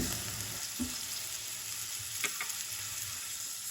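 Tomato paste and minced meat frying in a pan, a dense steady hiss of sizzling with a few soft stirring taps and scrapes, close by and uninterrupted by speech.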